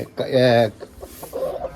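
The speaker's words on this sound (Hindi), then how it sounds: "वसीम, मुर्गी दूसरा मुर्गा तो निकाल दो।" A chicken lets out a loud, drawn-out squawk up close, then a person starts talking briefly.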